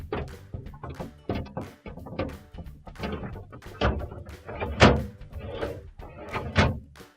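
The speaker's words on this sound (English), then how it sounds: "Now we're going to put our crisper drawers back in." A plastic crisper drawer on wheels slides along its track in a Maytag refrigerator, giving a series of close knocks, rattles and thunks of plastic meeting the rails, with no talk.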